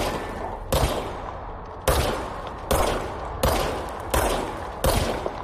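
Gunfire in the video game Control: six loud, evenly spaced single shots, each with a sharp crack followed by a lingering reverberant tail.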